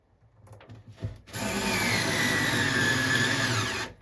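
A power drill drives a 3/4 inch screw into an arcade cabinet, running in one steady, loud whirring burst of nearly three seconds after a few faint handling knocks.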